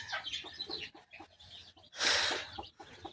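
Desi hens cluck near the mic in short, uneven bursts, with one louder, harsher squawk toward the end; no one speaks.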